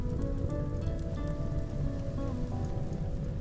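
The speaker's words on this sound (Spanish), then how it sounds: "¡Oh, lluvia!" Steady rain patters on surfaces in the colony game RimWorld, a dense continuous downpour that fills the whole stretch, with no talking over it.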